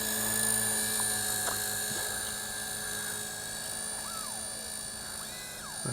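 A JJRC JX02 beginner four-channel RC helicopter flies nearby, its small motor giving a steady high whine that shifts slightly in pitch as it maneuvers.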